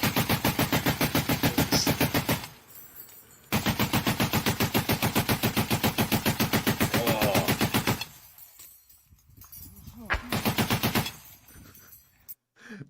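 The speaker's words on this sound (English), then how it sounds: "We now see him firing down the field towards the Russians. Oh, and this man is using it like a machine gun, Matthew." A Ukrainian soldier fires his weapon in long, rapid machine-gun bursts toward Russian positions across a field, loud and close, with two extended strings of shots broken by short pauses and then a few shorter bursts.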